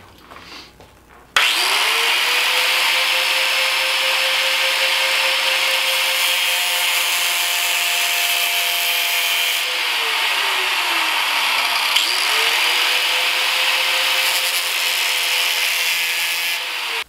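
A small hole being cut into the top of a plastic bottle serving as the hopper of a homemade walnut blasting machine: a loud, steady grinding hiss runs throughout with a whining tone that sags and then climbs again.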